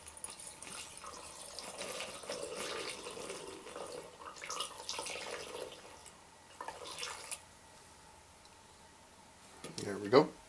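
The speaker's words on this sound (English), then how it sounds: "take a funnel. And I'm going to fill this little bottle with some lamp oil." Lamp oil poured through a funnel into a small bottle, a faint trickling and gurgling that comes and goes, ending in a brief louder splash.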